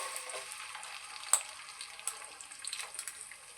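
Onion and green chillies frying in hot oil, a faint, steady sizzle with a few sharper crackles and pops, close and quiet, with no talk.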